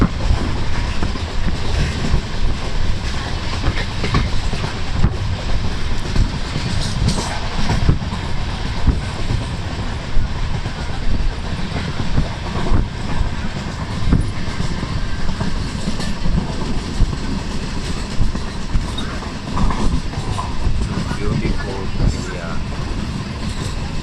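Passenger train running on rails, heard from on board during a long journey home from Bangalore: a continuous loud rumble with rhythmic wheel clatter throughout, steady and close, no talk.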